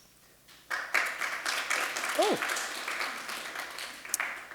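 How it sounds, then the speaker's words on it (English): An audience at a question-and-answer session breaks into applause after a short quiet start, moderate clapping filling the room while a voice briefly speaks over it. "it's very nice to get a clap"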